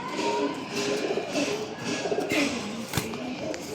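Old-breed Giribaz pigeons coo in repeated low, soft rolling calls, close by over a busy background hum with occasional faint clicks.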